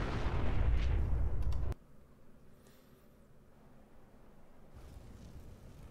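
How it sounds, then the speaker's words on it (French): A mutant exploding in the video game Fallout 4, a loud booming blast with a rumbling tail lasting under two seconds, followed by quieter ambient game sound. "il y a un mutant qui explose"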